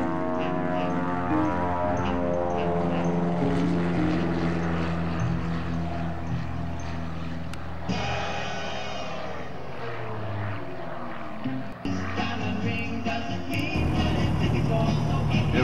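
A propeller-driven light aircraft taxis at an airfield, its engine drone steady and close with shifts in pitch as power changes partway through.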